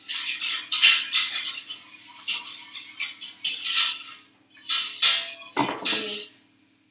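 A metal whisk scrapes and clatters rhythmically against a metal pan while whisking sauce for a chicken and mushroom pot pie, with close, bright bursts in quick strokes and short pauses between them.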